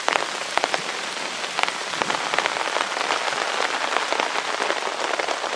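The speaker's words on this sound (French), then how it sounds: "le tonnerre gronde et la pluie a redoublé d'efforts. Donc là il pleut pas mal" Heavy rain pours on a bushcraft bivouac camp, with dense, steady patter and scattered sharper drops hitting close by. It continues unbroken with no talking.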